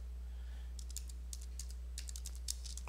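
Fingers tap out a terminal command on a computer keyboard in quick irregular clusters of crisp, close keystrokes over a steady low electrical hum.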